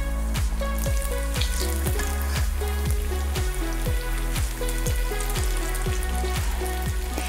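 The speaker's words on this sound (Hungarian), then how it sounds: "Majd forró olajban mindkét oldalát kisütöm." Filled Hungarian lángos dough frying in hot oil, a continuous loud crackle with rapid repeated pops and sizzles, close and steady with no talking.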